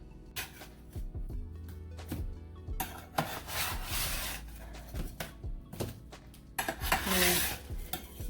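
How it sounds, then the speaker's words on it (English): Potato fries for poutine being flipped with a metal utensil on a baking pan, giving a string of close, irregular scrapes and clinks, with a few louder rasping scrapes, no talking. "We're gonna make sure we flip them all over so the uncrispy side is touching the pan"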